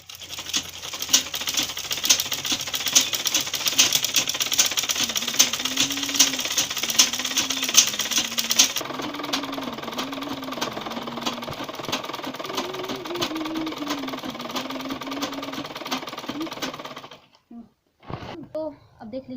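A sewing machine stitches fabric for an outdoor cover in a village, running in a steady continuous rattle for most of the stretch before stopping near the end, with a voice talking faintly underneath.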